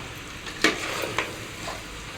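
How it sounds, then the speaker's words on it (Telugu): Mutton pieces fry in oil with turmeric and salt in a pan, a soft steady sizzle broken by a few scraping stirs of a spoon at close range, with no talking. "ఈ పసుపు ఉప్పులో మనం మటన్ని ఒక ఫైవ్ మినిట్స్ మంచిగా వేగనివ్వాలి నూనె అనేది తేలే వరకు వేయించుకోవాలి"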